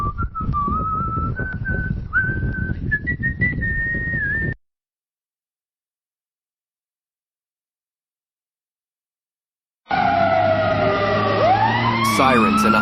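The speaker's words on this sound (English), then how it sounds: "Sirens and a humming engine approach and pass" A siren wails with a low engine hum underneath, cuts to silence, then returns with rising siren tones as the vehicle passes close.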